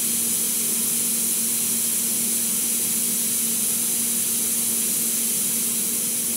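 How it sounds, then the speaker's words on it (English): A 12-inch high-performance, high-pressure pneumatically operated butterfly valve closes while compressed air hisses loudly and steadily throughout, a constant broad rush close by. "now we're going to go ahead and energize the closed side of the coil"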